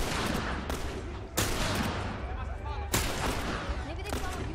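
Gunfire in The Last of Us video game, a few loud, sharp shots cracking out at irregular intervals over a dense layer of background game noise.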